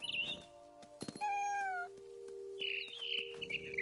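A mama bird in the game What Remains of Edith Finch gives several bright chirps and a longer warbling call, clear and close against a quiet ambient hum, with soft rustles and thumps between calls.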